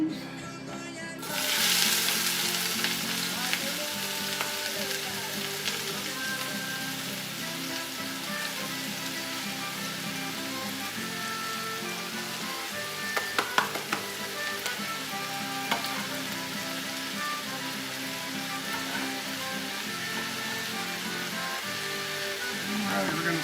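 Onions sauté in hot oil for jambalaya, making a continuous close sizzle that starts abruptly and holds steady, with faint clicks and clatter partway through and people talking quietly over it at times.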